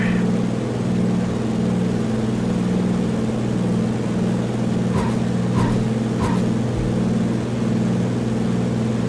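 A simulated aircraft engine in Flight Simulator X roars at full takeoff power in a bush setting, a steady droning hum throughout with a few faint clicks partway through.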